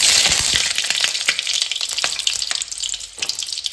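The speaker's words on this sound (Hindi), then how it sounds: "अब मैं इसमें डालूंगी बटर" Butter melting in hot oil in a kadhai, a loud, bright sizzle with crackling pops that settles into a steady fry, close up and with no talk.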